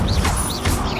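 Incendio fire spell from the video game Hogwarts Legacy, a loud crackling, whooshing burst with a couple of sweeping rises and crashing impacts, continuous for about a second with no voice.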